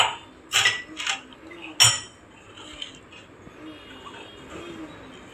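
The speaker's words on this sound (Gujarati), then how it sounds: "મારે શ્રદ્ધાબેન હલાવે છે આ દૂધ" Milk being stirred in a metal pan for thabdi peda: a few sharp metallic clinks and scrapes of the spoon against the pan early on, then quieter intermittent stirring.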